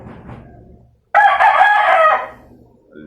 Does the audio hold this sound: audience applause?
no